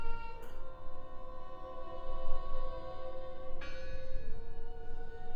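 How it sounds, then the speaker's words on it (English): A bell in the video game Draugen tolls twice, each strike followed by a long, rich ringing decay that hangs over a low ambient rumble, clear and fairly loud with no voices. "I heard the bell."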